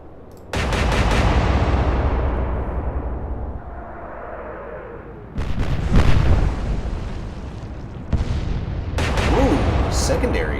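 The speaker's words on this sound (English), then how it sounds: "Ooh, secondaries. Or secondary explosion." Secondary explosions aboard a warship in the naval strategy game Atlantic Fleet, heard as several loud, heavy blasts with rumbling, crackling tails that arrive in separate bursts.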